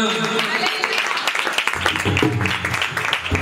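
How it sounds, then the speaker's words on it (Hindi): A church congregation at a carol service claps together in a sustained burst of applause, loud and close. People's voices are heard over and through it. "एक जोरदार ताली बजाओगे, प्रभु का धन्यवाद करेंगे"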